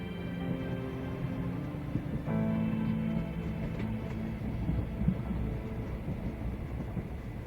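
A train rumbles steadily past with a continuous low roar and faint rattling of cars, holding a constant moderate loudness throughout without any talk.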